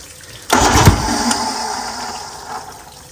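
A homemade race outboard motor cranks over, a sudden loud burst of mechanical churning that surges for about a second and then settles into a steadier, fading rumble.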